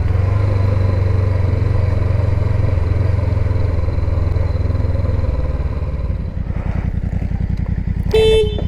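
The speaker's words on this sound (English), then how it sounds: "So I'm going to park up the bike" A Honda CB500X motorcycle is brought to a stop and parked, its engine rumbling low and close before settling to a throbbing idle, with a brief horn-like tone at the end.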